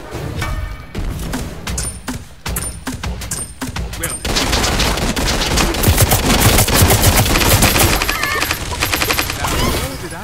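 A rifle firing at an enemy in Realm Royale Reforged, with spaced single shots at first and then a denser, louder stretch of rapid fire and impacts amid game effects.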